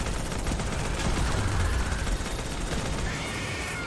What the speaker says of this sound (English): Shooting an MG42 in Destiny 2